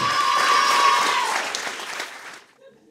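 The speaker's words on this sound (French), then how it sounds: "Faites un tonnerre d'applaudissements." Applause from a comedy show audience fills the room, many hands clapping together at full strength before thinning out and fading toward silence.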